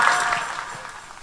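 Short burst of audience applause during a religious talk, a soft wash of clapping from a crowd that tails off within about a second.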